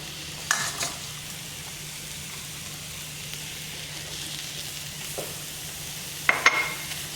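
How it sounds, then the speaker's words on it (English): Onions frying in a hot pan, a soft steady sizzle running throughout, with a few brief scraping stirs and one sharper clink near the end, no talking. "Alright, in go the onions."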